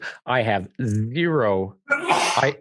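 A single sharp sneeze bursts out at the end of a short stretch of casual conversation, close and loud, following a person speaking a few words.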